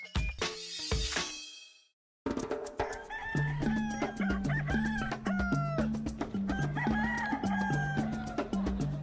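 A rooster in Chhattisgarh, India, crows briefly, followed by a moment of silence before rhythmic music with a steady beat begins.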